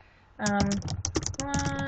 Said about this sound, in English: just keep typing the same text.